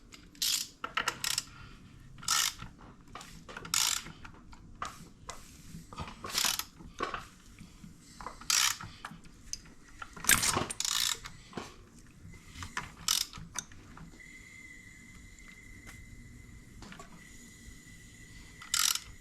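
SRT-4 engine crankshaft rotated by hand with a spacer bolt, giving a series of close, sharp mechanical clicks and ratcheting thumps at an uneven rhythm, with a faint steady tone near the end.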